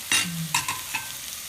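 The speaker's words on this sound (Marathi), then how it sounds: "भेंडीची भाजी असं हलवायची नाही" Okra bhaji being stirred in a pan makes a few short scraping strokes of a spoon with a soft sizzle underneath, close up and with no talk.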